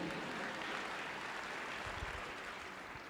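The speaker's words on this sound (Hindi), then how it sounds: "ताली बजाएं इस वचन के लिए" A church congregation claps for a scripture verse during a Hindi sermon, a dense, steady wash of many hands filling the hall without pause.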